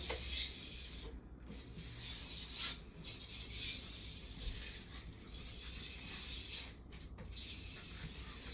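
Excess glide wax being scraped or brushed off skate skis, a steady rasping, hissing rub in long strokes broken by short pauses, close and moderately quiet with no talking.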